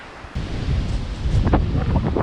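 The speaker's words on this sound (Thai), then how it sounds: "โอ้คลื่นอันนี้ใหญ่มาก" Ocean waves breaking on a cold beach in Dubrovnik, Croatia, heavy wind buffeting the microphone, a loud continuous roar with surges of surf, no talking.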